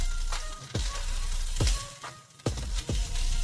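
Potatoes stirred into a pan with mawa sizzle gently, with repeated soft scraping strokes and thumps of a spoon at a steady rhythm, close and moderately loud, no voices.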